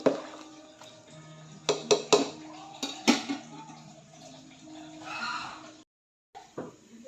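A spoon clinks and scrapes against a pot of chicken lechon sinigang soup in a few sharp knocks, then a softer swirl of stirring and a brief silence.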